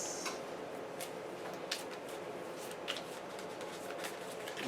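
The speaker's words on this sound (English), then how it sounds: "Let's give everything a quick little shuffle." Cards for the Pathfinder Adventure Card Game are shuffled at a tabletop session, giving a soft, steady riffling rustle with occasional light clicks, quiet and close.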